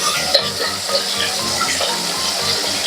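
Silver fish pieces fry in a pan with a steady, close crackling sizzle, punctuated by a few sharp pops of spattering oil.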